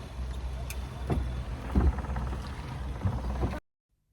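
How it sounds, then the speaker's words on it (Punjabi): A motorboat engine churns steadily with a low rumble and water noise in Thailand, cutting off abruptly near the end. "ਬੋਟ ਹੁਣ ਚੱਲੇਗੀ ਤੁਹਾਨੂੰ ਦਿਖਾਵਾਂਗੇ ਇਹਰੇ ਇੰਜਨ"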